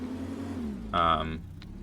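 A car engine in the building game Brick Rigs hums steadily and rises into a short, louder rev burst midway before settling back, with a voice talking over it.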